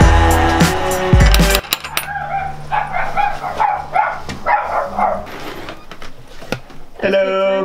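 Excited pet dogs bark and yip in quick bursts as visitors arrive at a house, with a loud clattering thump at the start and voices talking over the barking.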